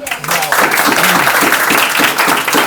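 A small audience applauds a student after a brilliant English-speaking performance, a burst of dense clapping that carries on steadily for a few seconds, with a voice speaking over it at the start.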